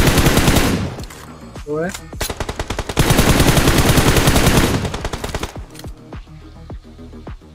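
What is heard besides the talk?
gunfire in video game PUBG Mobile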